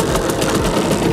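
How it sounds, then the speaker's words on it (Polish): A Simson moped engine runs steadily while being ridden, a loud, continuous buzzing two-stroke drone with rapid even pulsing throughout. "teraz mam przyjemność przejechać się jego motorowerem"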